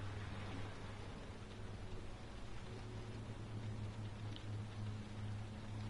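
Steady downpour in the video game Heavy Rain, a constant dense hiss of rain with a low rumbling undertone, even and unbroken throughout.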